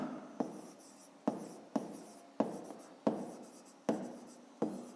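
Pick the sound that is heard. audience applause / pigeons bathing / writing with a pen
writing with a pen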